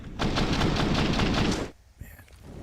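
Rapid gunfire rattles in a Counter-Strike match on the Inferno map: a loud, sustained burst of close shots for over a second, then an abrupt stop and a few faint, distant pops.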